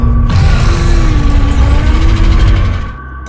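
The Gargantuan Leviathan from the video game Subnautica lets out a loud, deep, rumbling roar with grinding mechanical texture, sustained for about three seconds before fading, heard alone.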